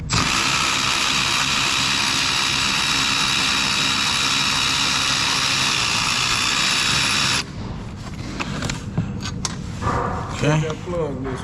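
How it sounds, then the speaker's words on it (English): Cordless ratchet with a deep socket working on a 2016 Chevrolet Impala during alternator replacement: a loud, steady mechanical whir runs unbroken for about seven seconds, then stops, leaving scattered clicks, clanks and handling noise. "Okay, so got a cordless ratchet. Put a deep."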